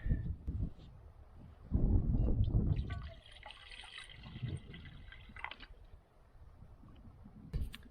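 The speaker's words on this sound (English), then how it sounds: "then we could fill this with water" Water trickles and splashes while being poured into a container at a campsite at Lee's Ferry, faint and close with uneven gurgling surges and soft handling noises.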